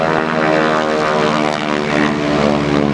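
Loud, steady drone of a propeller airplane's engine working hard against heavy drag during a wing walking act at a 1986 Daytona Beach airshow.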